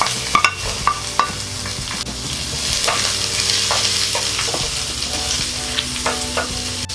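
Onion and garlic fry in a very hot kawali, a loud continuous sizzle with clanks and scrapes of stirring, the heaviest knocks early on, then a dense hiss with occasional taps.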